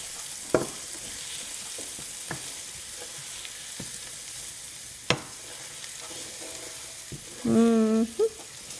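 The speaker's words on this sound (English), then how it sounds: "we're gonna let it fry for about 2 minutes. You don't wanna burn the garlic" Garlic fries in a pan with a quiet, continuous sizzle, broken by a few sharp utensil clicks and taps, and a brief voiced sound near the end.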